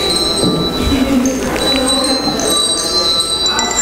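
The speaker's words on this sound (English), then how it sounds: "If there's a bell that's free, somebody grab it." Hand bells ringing together in a church, bright sustained tones layered over one another with a murmur of people in the room, loud and continuous throughout.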